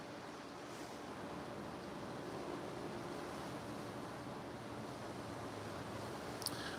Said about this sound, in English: very windy out today